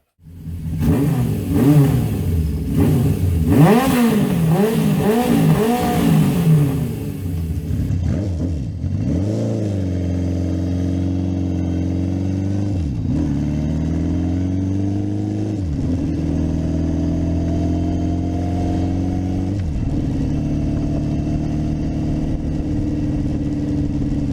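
Honda CB750 K0 motorcycle engine on a shakedown run after restoration: sharp rising revs and throttle blips in the first seconds, then a steady, loud four-cylinder drone with a few brief dips in pitch, close by and alone with no talk.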